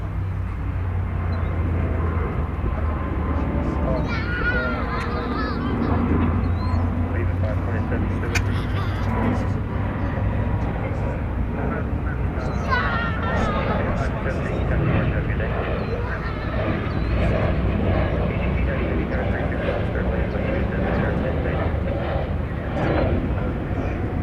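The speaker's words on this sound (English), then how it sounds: "here comes Fiji Airways Flight 890 from Nadi Airport" A Fiji Airways airliner on Flight 890 from Nadi arrives at DFW Airport, its broad jet rumble rolling steadily for the whole stretch amid open airfield noise, with talk heard partway through.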